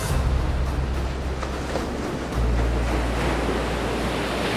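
Ocean surf rolls onto a seashore, a continuous, loud, low roar with gusty wind rumbling against the microphone and no voices.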